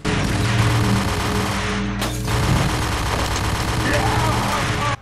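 Sustained automatic fire from an Ingram submachine gun in the video game Max Payne, a dense continuous stream of shots over a steady background of game noise and music, with a brief break midway.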